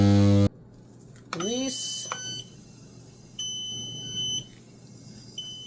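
A 30-second timer on an Amazon resin bubble remover beeping: a short loud tone, then a few high electronic beeps and a falling chirp spaced across a quiet background.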